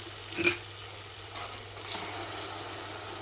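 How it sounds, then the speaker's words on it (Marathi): Spinach sautéed with tomato in a pan for spinach chicken, a faint steady sizzle with a short spatula scrape near the start and light stirring, no talking. "आणि पालक पण आपण 1-2 मिनिटावर परतून घेऊया."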